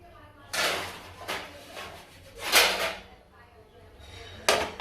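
A griddle pan (tawa) being handled in a home kitchen while cooking onion thalipeeth flatbread, with three or four sharp metallic clanks and scrapes spaced apart, close by; someone speaks briefly.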